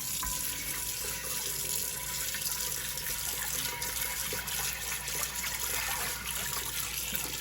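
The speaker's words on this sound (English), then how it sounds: "gonna give it a good rinse with some hot water." Hot tap water streams steadily into a Lodge cast iron pan being rinsed in a sink, a continuous close splashing gush with no voices.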